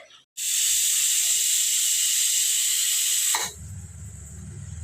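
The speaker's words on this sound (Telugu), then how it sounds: "రెండు విజిల్ అయితే వచ్చినాయి ఇంకొక విజిల్ వస్తే కాబుల్ శనిగలు అయితే రెడీ అయిపోతాయి" A pressure cooker cooking kabuli chickpeas lets out one loud, steady hissing whistle lasting about three seconds, then cuts off, leaving a low background rumble.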